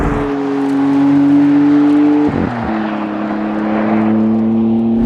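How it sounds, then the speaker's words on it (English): Maserati MC20 Cielo V6 engine running loud and close, holding a steady drone, dipping briefly as it shifts, then settling back into a strong sustained pull. "It just sounds like a powerful engine."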